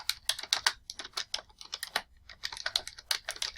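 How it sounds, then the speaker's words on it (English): Rapid keystrokes on a computer keyboard, typing a document title in a close, quiet room, the clicks coming in short uneven bursts with a brief pause midway. "And then type Cooking Craft Financial Report."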